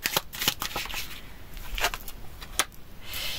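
Fortune-telling cards being shuffled, several quick riffling bursts and soft slaps close by, spaced out over a few seconds with no voices.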